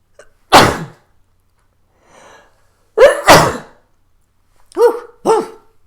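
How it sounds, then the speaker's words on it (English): A sharp sneeze near the start, a faint breath, then two more sneezes close together and a final pair of quick, high gasping sneezes. "I feel like I'm going to sneeze."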